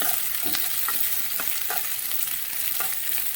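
Garlic sautéing in a pan for dried shark curry gives a constant bright sizzle, with a few soft scraping stirs every half second or so, close up and with no voices.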